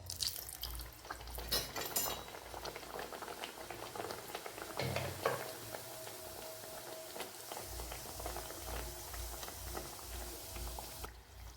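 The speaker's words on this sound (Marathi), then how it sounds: "अगदी मीडियम फ्लेमवर आपल्याला ह्या तळून घ्यायच्या आहेत. पहा, मी एक कचोरी यामध्ये टाकत आहे." Kachori deep-frying in hot oil over a medium flame, a steady close bubbling and sizzling with irregular crackles and faint clinks, with no voice.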